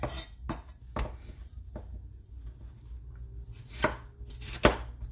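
A sharp kitchen knife chops an onion on a board, a few spaced crisp strikes with quiet pauses between them, close and alone with no talking.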